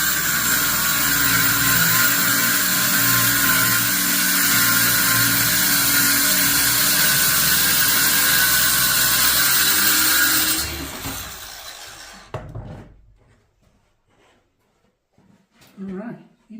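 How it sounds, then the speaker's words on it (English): A power saw cuts through plywood with a loud, sustained, steady whine for about ten seconds, then stops abruptly, leaving faint clatter and handling sounds. "I've got our blade shortened up to where it's just barely going through the plywood."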